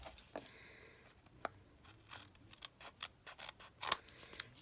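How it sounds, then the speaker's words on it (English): Scissors trimming paper for a junk journal, a string of quiet, close, crisp snips and clicks in an uneven rhythm in a hushed room. "Let's trim that off really quick first."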